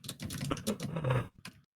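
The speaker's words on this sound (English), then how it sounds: "The furious typing" Rapid, furious typing on a computer keyboard, a dense flurry of clicking keystrokes for under two seconds, close and fairly quiet.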